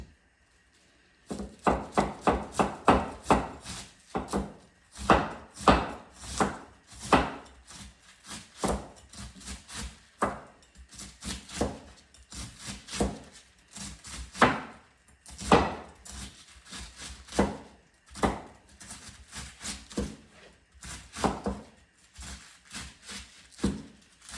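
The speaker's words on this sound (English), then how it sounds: "now I'm going to chop this, like a cabbage" Knife chopping green cabbage on a cutting board in a home kitchen: a long run of crisp, rapid cuts in uneven bursts, close and clear with no talking.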